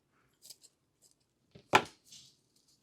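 A fall banner is trimmed to length with scissors: a few soft snips and rustles, then one sharp, close cut, followed by a faint crinkle in otherwise quiet surroundings.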